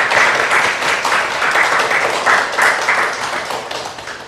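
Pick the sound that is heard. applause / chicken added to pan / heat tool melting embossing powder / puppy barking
applause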